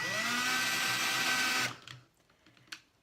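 A power drill whines steadily at high speed drilling into melamine for over a second, then cuts off abruptly, leaving quiet room noise and one small knock.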